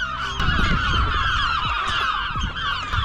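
A dense colony of gulls with chicks on an abandoned island off the Irish coast calls continuously, a loud overlapping chorus of honking, squawking cries layered close and far with wind rumble beneath, and no talk.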